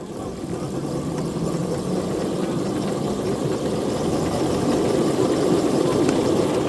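A motor warming up at a live steam hobby club, running with a steady mid-low drone and a rough, even texture, close and continuous throughout, with no talk.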